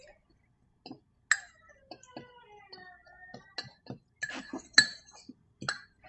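A fork stirs banana mug cake batter inside a mug, giving faint, irregular clinks and taps against the ceramic with quiet pauses between them.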